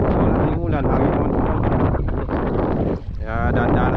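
Strong wind buffets the microphone at a seashore while shore casting in Palawan, Philippines, a loud constant roaring rumble with gusty surges and no clear speech.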